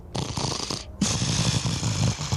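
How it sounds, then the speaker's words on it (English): Heavy, rasping breaths close up with a low guttural growl rumbling underneath, broken by a brief pause before continuing steadily. "you hear very heavy breathing and what sounds like a deep guttural growl"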